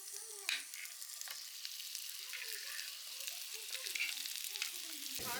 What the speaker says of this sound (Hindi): और प्याज को भूनना शुरू करते हैं।